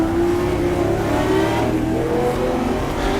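A Ferrari 250 LM engine revs hard in the GTR2 racing game at the 1966 Daytona 24 Hours, a loud steady drone with a rising pitch, near and alone.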